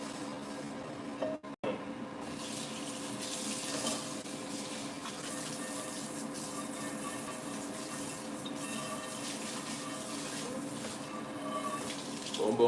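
Tap water runs steadily into a sink while a pan is washed, a constant close splashing rush with small clatters near the start.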